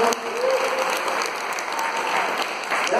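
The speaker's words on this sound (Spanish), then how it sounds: "Fuerte el aplauso para mí, amigos" Loud, dense applause fills the room as an audience claps for a performer, a steady wash of hands with faint crowd noise underneath and no clear speech.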